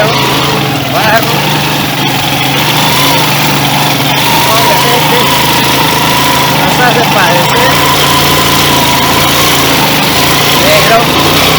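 A 150cc motorcycle fitted with a 125 carburetor strains up a steep, muddy clay hill, its engine droning loud and steady throughout while someone talks over it.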